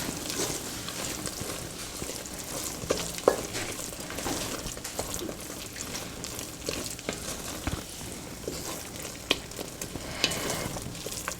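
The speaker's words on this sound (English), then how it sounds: "I'm going to add like 2 teaspoons of garam masala and mix that in." Garam masala is stirred into a thick spiced paste sizzling in a pan for Indian stuffed cauliflower, giving a continuous close frying hiss with irregular scraping stir strokes and occasional small pops.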